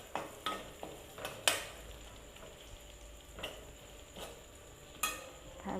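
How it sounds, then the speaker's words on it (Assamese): Chicken curry ingredients fry gently in a pan over low heat until reddish, a soft continuous sizzle broken by sharp clicks and scrapes of a spoon stirring against the metal. "এতিয়া এইখিনি অকণমান ৰঙচুৱা হোৱালৈকে আমি ভাজিলোঁ কম ষ্টিমতে"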